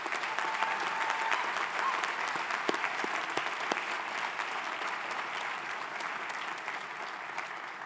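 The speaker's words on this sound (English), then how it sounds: "that just deserves an incredible round of applause for all of you here today" Sustained applause from the audience at a 2023 Hartwick College commencement ceremony, a broad, even wash of many hands clapping that holds steady for the whole stretch.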